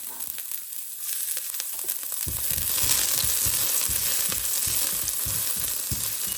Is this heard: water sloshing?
no